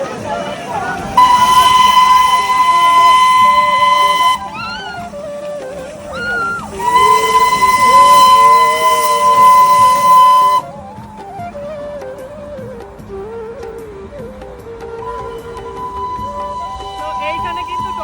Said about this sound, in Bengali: এই যে টয় ট্রেনটা, এটা বাতাসিয়া লুপ